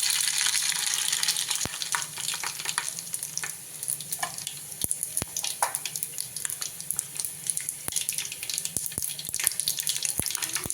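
Oil crackles and sizzles steadily as mustard seeds and cumin are tempered, with sharp popping clicks scattered throughout and faint running water in the background.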